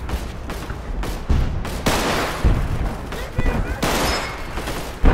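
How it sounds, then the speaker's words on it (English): Rapid bursts of gunfire in the Roblox game Centaura crack and boom repeatedly, close and loud, with sharp shots scattered irregularly across the clip. "the gunshots in this actually sound insane when they whiz past your head"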